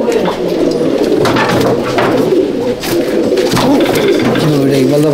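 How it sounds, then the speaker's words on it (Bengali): Pigeons coo in a pigeon loft at Barrackpore, a loud, dense chorus of overlapping throaty coos close by with someone talking over them. "এইখানে দুটো পায়রা আছে"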